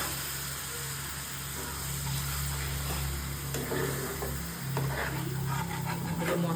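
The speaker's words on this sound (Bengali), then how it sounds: "এবার এর মধ্যে অল্প পরিমাণে আমি জল দেব, দিয়ে আর একটু কষিয়ে নেব।" Chicken pieces in a spiced masala sizzle steadily in a pan after a little water is added, with intermittent stirring scrapes over a constant hiss, close and moderately loud.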